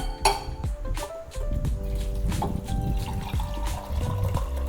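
Water trickling and splashing from a pouring vessel onto garden plants, with light clinks of a metal container, a continuous close stream that starts and stops.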